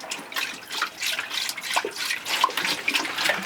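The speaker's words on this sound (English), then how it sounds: "we can take that excess antifreeze and pour it in our traps in all our drains" Excess antifreeze poured into the sink drain trap of an Airstream Interstate motorhome, gurgling and splashing in bursts with drips, close and moderately loud, no talk.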